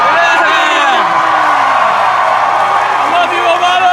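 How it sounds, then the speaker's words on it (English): A rowdy San Francisco audience at a speech cheers, whoops and applauds loudly and continuously, a dense wall of crowd noise close around. "I always get a rowdy crowd in San Francisco."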